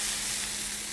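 Finely diced peppers sizzle in olive oil in a pan, a close, steady hiss of frying with no voices over it.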